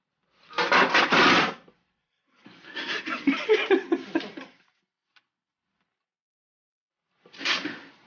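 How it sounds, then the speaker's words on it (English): Fresh ginger rasped against a very sharp grater in a farmhouse kitchen comes in three close bursts of scraping strokes, separated by short silences. "This is a very, very sharp grater."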